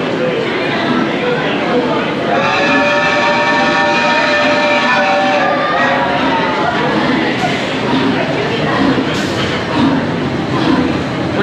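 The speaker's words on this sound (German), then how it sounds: "Und jetzt geht's mit dem Zug, mit dem Hogwarts Express in die Winkelgasse" Hogwarts Express theme park train in Orlando, a loud steady rumble with a long whistle-like tone, heard close from aboard with crowd noise and speech mixed in.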